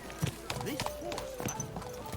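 In Kingdom Come Deliverance 2, horse hooves clip-clop in quick, uneven steps, faint and low in the mix beneath a voice talking over the game sounds.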